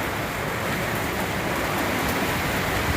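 Steady rain falling at night outside a dry shelter on a trail near the Shenandoah, an even, continuous hiss of drops close around with no pauses or voices.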